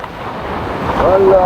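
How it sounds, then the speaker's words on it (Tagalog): Ocean surf rolling and crashing along an Australian shore, a steady broadband wash with wind buffeting the microphone, building slightly louder toward the end. "Yan ang alon guys."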